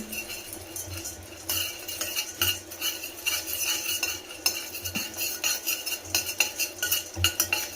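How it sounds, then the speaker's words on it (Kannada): Metal spoon scraping and clinking against a pan while fried gram (hurigadle) is roasted and stirred, a steady run of irregular close taps and scrapes at moderate volume, with no talking. "ಈಗ ನಾನು ಹುರ್ಗಡ್ಲೆನ ಹುರ್ಕೊಳ್ತಾ ಇದ್ದೀನಿ"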